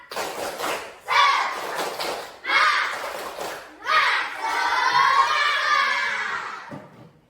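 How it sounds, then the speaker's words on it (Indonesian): A standing class of young pupils repeats a rhythmic clap chant more energetically, with patterned claps and thumps between loud shouted group chanting, fading out at the end. "Sekali lagi yang lebih semangat, tepuk semangat."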